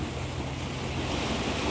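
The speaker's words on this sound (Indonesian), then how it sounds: "Seperti ini suasana Pantai Jungcau di siang hari." Waves on the beach at Cheung Chau island, Hong Kong, at midday in clear weather, a continuous broadband wash of surf mixed with wind rumble on the microphone, steady and fairly close, with no voices.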